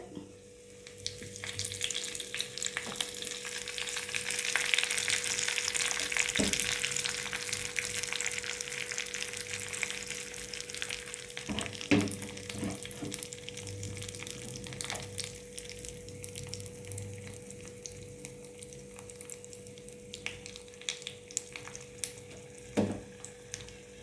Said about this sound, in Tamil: இப்போ இந்த சட்னிக்கு ஒரு தாளிப்பு கொடுத்துடலாம்